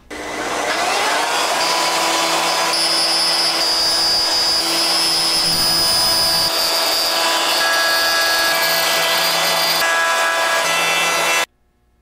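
A power router whines steadily and loudly as it cuts a truss rod channel into a wooden guitar neck blank, a continuous tonal buzz that stops abruptly at the end.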